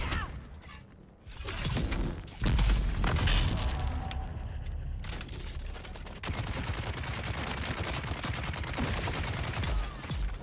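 Las gun firing in a video game, a dense stream of sharp crackling shots and shattering impacts over several seconds, loud and continuous after a brief whoosh.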